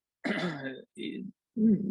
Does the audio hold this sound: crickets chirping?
no